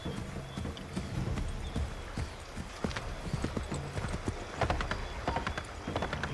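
Horse hooves clatter in Assassin's Creed 3 in a fast, busy clip-clop that runs throughout. The galloping is loud and close, mixed with ambient game noise.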